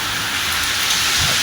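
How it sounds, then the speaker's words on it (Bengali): Heavy rain in a sudden night storm, a dense, loud, steady roar of rainfall drumming on surfaces close by, constant throughout with no speech. "প্রচণ্ড ঝড় বৃষ্টি হচ্ছে,"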